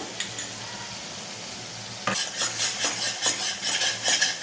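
Masala with turmeric and a spoonful of cream fries in oil in a pan, a soft steady sizzle that turns louder and busier halfway through as the mixture is stirred, with scraping clicks of a spoon; no talk.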